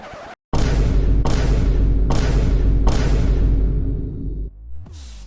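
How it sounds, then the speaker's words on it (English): Loud bursts of an air spray gun spitting bed liner, hissing and sputtering inconsistently in four long pulses, each trailing off, with a brief gap near the start. "So inconsistent spraying, like you hear that, Chad?"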